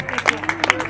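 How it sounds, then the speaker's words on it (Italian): Audience applause for the kitchen staff at a live band contest finale, brief scattered clapping heard up close with no voices over it. "un applauso grandissimo agli uomini e le donne delle cucine"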